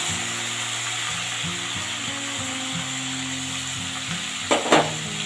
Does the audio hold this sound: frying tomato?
yes